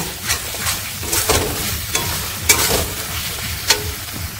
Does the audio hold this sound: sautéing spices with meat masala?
yes